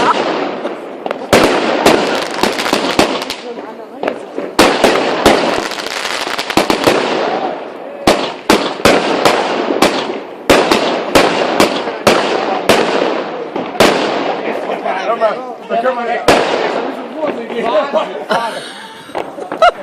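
New Year fireworks and firecrackers burst in a dense, loud barrage of sharp cracks and booms over about twenty seconds, with people chattering and laughing close by throughout.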